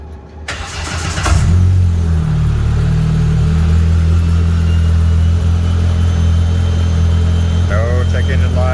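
A Polaris RZR Pro R turbo side-by-side on a 91 pump-gas tune cranks and fires up, then settles into a steady, loud idle that drones on close by, with a brief voice near the end.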